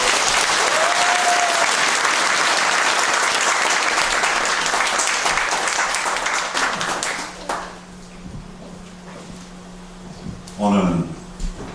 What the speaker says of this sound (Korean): 뜨거운 박수로 맞이해주십니다